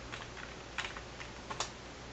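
Keys clack on a computer keyboard as a short command is typed, a quick run of close, crisp taps with a couple of louder strokes, no voices.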